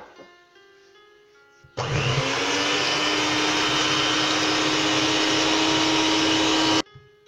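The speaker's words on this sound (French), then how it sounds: "J'ajoute le reste du lait et je remélange." An electric mixer blends crêpe batter with milk for an orange-cream crêpe recipe, a steady loud whirring drone that switches on abruptly, runs about five seconds without change and cuts off, with quiet background music before and after.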